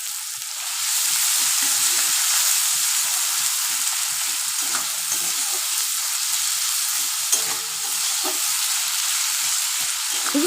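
Sliced onion with ginger-garlic paste fries in a pan for an egg curry, a loud steady close sizzle with soft stirring scrapes throughout.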